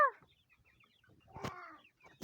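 Chickens in a backyard coop give a few soft, scattered clucks and squawks, with a louder burst of flapping and cackling midway and a sharp squawk near the end.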